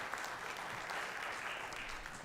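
A school band Christmas concert audience gives a steady round of applause, soft and distant-sounding, a dense even patter of clapping hands holding at one level throughout.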